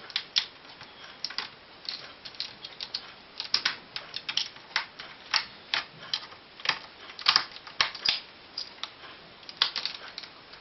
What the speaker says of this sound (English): Screw them in all the way.